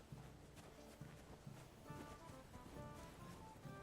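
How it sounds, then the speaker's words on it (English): Horse hooves in a video game clip-clop in a steady rhythmic gait, drawing nearer over a bed of ambient game sound with faint musical tones, no voices. "there's my horse. My horse showed up."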